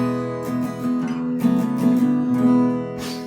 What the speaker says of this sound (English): We can play this little fill,